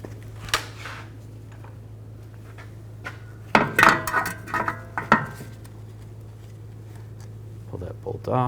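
A 12mm socket works a bolt loose from the rear brake caliper of a 2004-2008 Nissan Maxima, giving a short cluster of close metallic clinks and clanks midway, with quieter taps before and after over a steady low hum.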